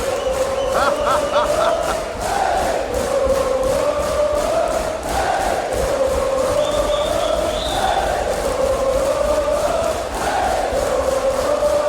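A packed concert crowd roars and chants in rhythmic waves for the band, loud, dense and continuous with whistles and shouts on top.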